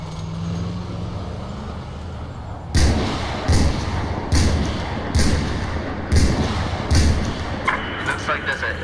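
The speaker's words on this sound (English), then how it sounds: "Let's see if we can rocket this dude." In Battlefield 4 multiplayer, a rocket launcher fires amid combat noise, with a series of about five loud, heavy booms spaced roughly a second apart over a constant background rumble.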